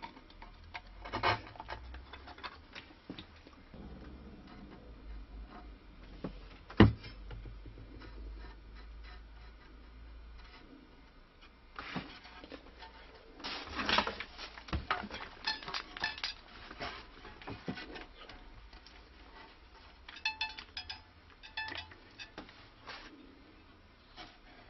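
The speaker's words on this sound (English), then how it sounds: "I'm using this 2mm chisel" A 2mm chisel trims wood on a stick dulcimer, giving quiet, scattered taps and light scraping clicks at an irregular pace, with denser bursts of cutting near the middle and toward the end.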